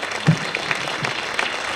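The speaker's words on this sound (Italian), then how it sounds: "Vi prego davvero un applauso per tutti loro" Scattered applause from the audience at a presentation on the restoration of the cuspid mosaics of Orvieto Cathedral, a few separate claps standing out over a thin, sparse spread of clapping.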